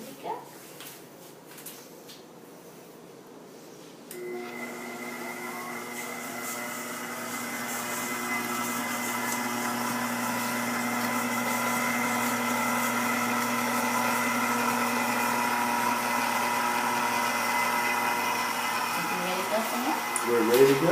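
An electric mixer creams butter and sugar for cookies, starting after a few seconds and running as a steady whirring motor hum that rises slightly in speed, with people talking over it.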